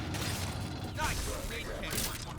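Ammo being grabbed in the sci-fi shooter Aliens Fireteam Elite: a few quick mechanical clicks and rattles over steady game background noise, with voices talking.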